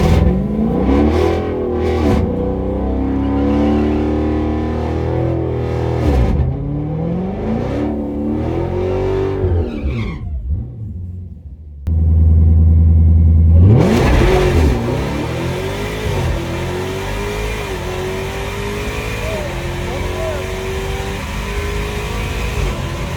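A Dodge Demon 170 drag car revving hard at about 1,200 RPM before a launch, loud and close, with engine pitch rising and falling. A brief drop in sound gives way to a sustained full-throttle roar as the car takes off.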